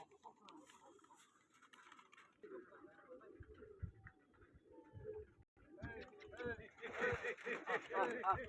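Pigeons coo in low, soft, repeated murmurs at an outdoor pigeon-flying contest, mostly under nearby talk, with scratchy handling noise and a louder hissing burst toward the end.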